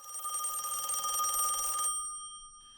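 Telephone bell ringing close and loud in a continuous electronic trill for nearly two seconds, then stopping abruptly, with a faint ringing tone lingering after.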